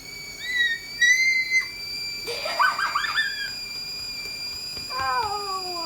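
A stovetop kettle whistling as water boils for tea, a thin high-pitched whistle in short wavering bursts, fairly close, with a clatter partway through and no speech.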